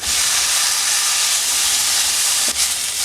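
Chopped tomato sizzles loudly in hot oil in a soya chunks masala being sautéed, a dense steady hiss close up with a brief stirring scrape near the end.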